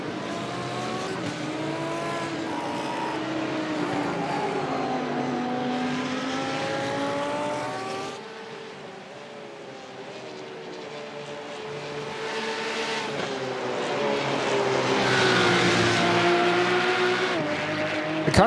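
Onboard engine of a race car at a Goodyear-sponsored circuit race, a loud sustained howl rising and falling through gear changes, easing off mid-lap and then building again to a high-pitched scream.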